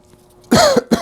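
A single person coughs close into a microphone, one sharp burst followed by a shorter second cough after a brief quiet stretch.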